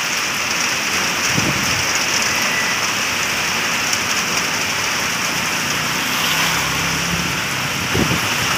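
Heavy evening rain pours steadily in Rangsit, Thailand, a dense continuous hiss of drops striking surfaces with gusty wind, a few low rumbles and passing traffic faintly beneath.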